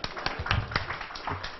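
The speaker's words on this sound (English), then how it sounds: "Round of applause for Danny." Scattered claps from a panel audience at a NASSCOM WCIT 2018 blockchain discussion, a short thin round of a few hands clapping for a panelist, close and brief with faint background murmur.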